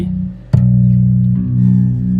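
A low bass guitar note, the string tuned down to low B, is plucked and sustains, deep and steady, with a slight pitch settling as the string rings out alone.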